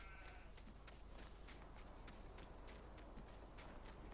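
Sheep bleat repeatedly in the Farming Simulator 19 game on a Swiss farm paddock, short calls recurring steadily over a constant background hum, moderately loud and with no talking.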